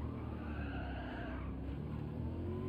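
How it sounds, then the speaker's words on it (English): A Mercedes-AMG car in Gran Turismo 7 slides under heavy braking, its tires skidding in a steady, loud screech over continuous engine and road noise, with no voices. "There was a lot of brake that was required there, and we're still sliding."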